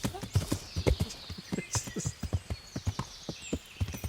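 Horse hooves clip-clop in a steady, quick rhythm during a ride to the forest in the medieval video game Kingdom Come Deliverance, close and clear, with a faint whinny and no speech.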